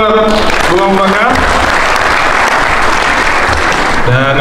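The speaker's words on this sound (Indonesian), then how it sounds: "tepuk tangan buat Bung Abu Bakar." Audience applause at an Indonesian youth organisation officials' inauguration ceremony, a loud sustained wash of clapping filling the room throughout, with a voice speaking over the start and end.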